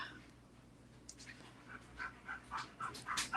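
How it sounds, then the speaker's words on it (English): Dogs panting near the listener, rapid breathy puffs growing louder and more insistent toward the end, with faint whimpers, over a low steady hum. "I hear dogs."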